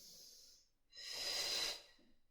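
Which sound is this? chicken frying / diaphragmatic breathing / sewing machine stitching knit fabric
diaphragmatic breathing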